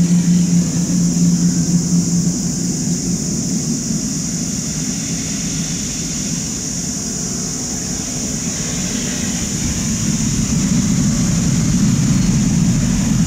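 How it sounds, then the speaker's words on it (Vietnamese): A Vietnam Airlines Boeing 787-10 taxiing on a wet taxiway and apron, its engines giving a steady loud roar with a high whine on top, constant and unbroken throughout. "Các động cơ của chiếc 7870 đang thổi tung nước trên mặt đường lăn và sân đỗ trông rất đẹp mắt."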